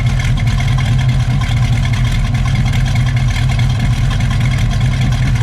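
A 1967 Chevrolet Camaro RS SS with a 350 V8 and four-speed idles up close, a steady, loud, low rumbling burble that holds evenly throughout with no talk over it.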